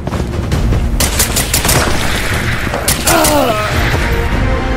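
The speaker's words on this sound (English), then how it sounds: "NPC shooting at me." Gunfire from computer-controlled enemies in the video game Escape from Tarkov, a dense run of loud, close rapid shots with booming impacts, in bursts across the whole stretch, with a brief mechanical sweep near the end.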